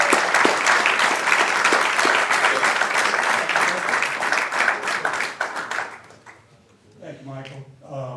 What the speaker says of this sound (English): I'd love a big round of applause for former CEO of the Port of New Orleans, Gary LaGrange.